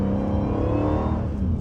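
A Hellcat's engine revs hard and steadily as the car spins on a rain-soaked road, a loud, continuous roar with no one speaking over it.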